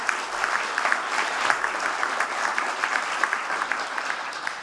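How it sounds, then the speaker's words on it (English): Audience at a World Wildlife Day conservation event giving a short round of applause, an even, fairly close patter of many hands clapping steadily throughout. "So if we could give them a quick hand of applause"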